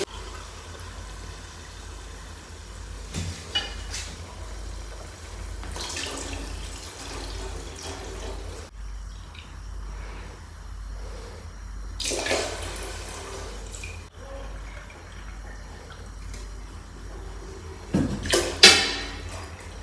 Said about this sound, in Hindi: तो अभी इसमें डाल देंगे पानी।